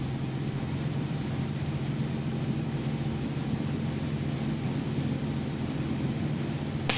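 Steady, even engine drone and wind roar fill the cockpit of an aerobatic airplane in flight, a constant loud hum with no break or change over several seconds.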